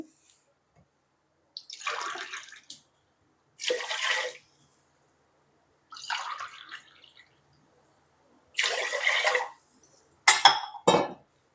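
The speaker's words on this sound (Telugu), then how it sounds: "మనం 3 గ్లాసులు వాటర్ వేసుకోవాలి" Water is poured in five separate splashing bursts onto washed rice and moong dal in a vessel, each pour lasting about a second with quiet pauses between, the last ones short and sharp.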